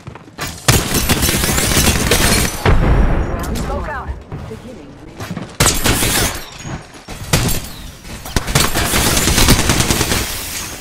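Explosions and heavy gunfire from a frag grenade fight in the video game Apex Legends, loud bursts and rapid shots crowding together with short pauses between them.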